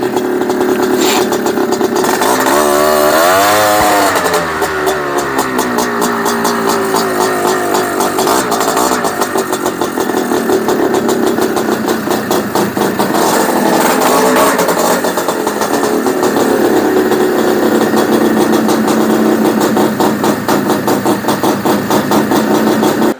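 Honda Odyssey FL350 buggy engine runs steadily and loud throughout a test drive, with a harmonic revving swell early on before settling into a continuous close drone, no talking.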